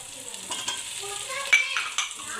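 Vegetables, sweet corn and soy chunks fry in a hot pan, a steady close sizzle broken by a few scraping stirs.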